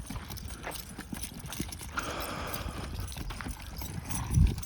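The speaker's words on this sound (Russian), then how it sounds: "Вот сегодня пригнал лошадей." Horses being driven in walk with hooves clip-clopping in a loose, uneven rhythm over rough outdoor noise, a little louder near the end.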